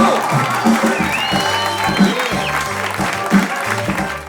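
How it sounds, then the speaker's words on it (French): An audience at a comedy club claps together in a sustained round of applause, fairly close, with a few voices and light cheering mixed in. "Allez, on l'applaudit, s'il vous plaît."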